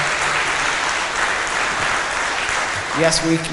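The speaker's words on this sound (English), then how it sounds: "Yeah, you can clap." Audience applause at a talk on Palestine, a steady broadband patter of many hands clapping throughout, with a voice briefly speaking near the end.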